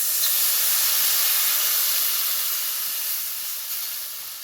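Water poured into a hot pan of tangra fish curry with potato and eggplant, giving a loud, bright, continuous hiss of steam that slowly tapers off, with no voices.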